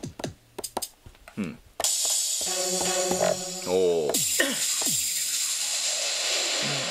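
Electronic sounds triggered from Akai MPC Touch pads: a string of short percussive hits, then sustained synth tones with pitch sweeps and a noisy hiss layer, heard loud and close, with brief murmured acknowledgements from a voice.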